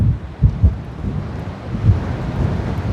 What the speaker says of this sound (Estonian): Tuul on päris kõva